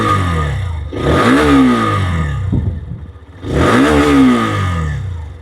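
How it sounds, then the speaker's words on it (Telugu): A Hero Xtreme 125R motorcycle being revved twice. Each time the engine note and exhaust rise sharply and then fall back to a steady idle between the bursts, heard loud and close. "ఒకసారి ఇంజిన్ నోట్ అలాగే ఎగ్జాస్ట్ సౌండ్ అయితే విందాం"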